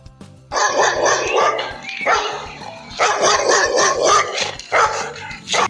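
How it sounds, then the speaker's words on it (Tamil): A dog barks loudly and close by in repeated bursts of rapid, excited barking with short pauses between them, and no talking. "என்ன இந்த நாய் என்னை பார்த்து குலைக்குது?"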